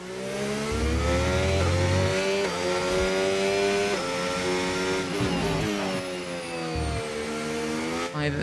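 Williams FW47 Formula 1 car engine in the F1 25 racing game, a loud, steady high-pitched whine that climbs through upshifts with brief drops between gears, running continuously without speech.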